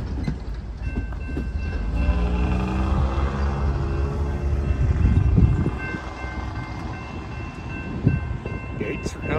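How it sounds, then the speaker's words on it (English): A short CSX intermodal freight train passes with a steady rumble and wheel-on-rail noise that holds for the whole stretch, a horn-like tone drifting through, under faint talk. "All right, got CSX intermodal coming."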